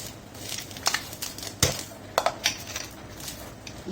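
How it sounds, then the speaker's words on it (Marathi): A spoon stirring dal in a metal cooking pot for a Konkani masala tadka dal, giving a series of close scraping clinks and taps at an uneven rhythm, with no talk. "डाळी घालून बरे खतखत हलवचे"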